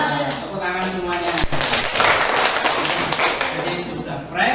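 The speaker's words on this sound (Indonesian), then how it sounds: "Tepuk tangan semuanya." Students in a classroom clap their hands together in a loud, close rhythmic burst mixed with children's chatter, lasting a few seconds.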